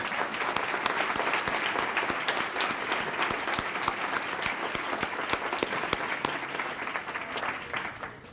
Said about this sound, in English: round of applause for the Lincoln High School Jazz Band.